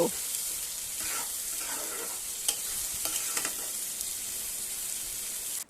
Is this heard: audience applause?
no